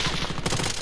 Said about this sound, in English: oh god, we're getting shot at.